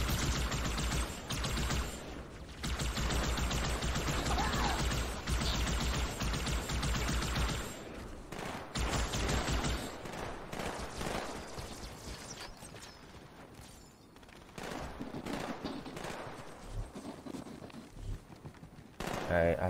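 Rapid automatic battle rifle gunfire in Halo 2 Anniversary, dense bursts of shots with mechanical clatter filling the first half, then sparser intermittent firing and game effects.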